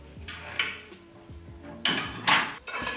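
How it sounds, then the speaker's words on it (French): Clean dishes being put away in a home kitchen, with a few sharp clinks and clatters of crockery striking together in short bursts, close to the microphone, louder toward the end. "Donc je vais ranger ma vaisselle propre qui est juste là."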